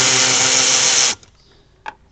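A power tool whirs steadily for about a second while a bolt is removed from the center console of a 4th gen Dodge Ram, then stops abruptly, followed by a faint click.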